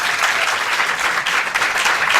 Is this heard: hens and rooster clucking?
no